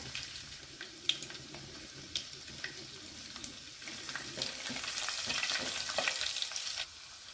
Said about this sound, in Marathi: राई घातली आहे आता जिरं घालून घेऊया आणि हा लसूण आहे ठेचून घेतलेला